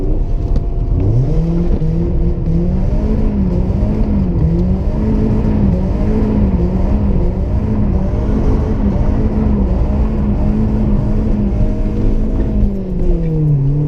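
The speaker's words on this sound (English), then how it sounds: "We definitely roasted some tires. This thing has no grip. It just does a four-wheel slide the whole time." A slammed BMW E36 318is drifting on the street, its engine revving and wavering up and down in pitch with a steady droning tone, tires sliding underneath, heard from inside the car.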